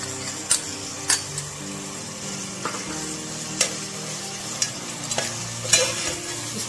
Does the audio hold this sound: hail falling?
no